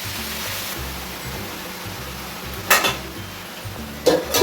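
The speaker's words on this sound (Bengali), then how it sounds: "তো এই শাকটা দিয়ে একটু ভালো করে নেড়ে নেবো, নেড়ে তারপর ঢাকা দিয়ে দেবো।" Greens being stirred into potatoes in a pan for a home breakfast, a steady soft scraping and rustle with low clatter, then two brief louder metallic scrapes of the utensil against the pan near the end.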